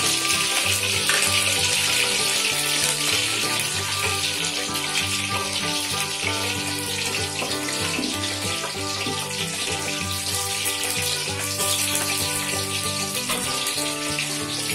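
Whole spices, bay leaves, star anise, cinnamon, cloves and cardamom, tempering in hot oil for a turkey dum biryani, giving a steady, dense sizzle and crackle that runs close and continuous throughout.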